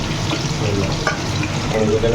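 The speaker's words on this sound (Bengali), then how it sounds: "আর এখানে আমাদের পকোড়া ভাজা চলছে" Pakoras deep-frying in hot oil, a continuous crackling sizzle heard close up with clattering kitchen noise mixed in and faint voices in the background.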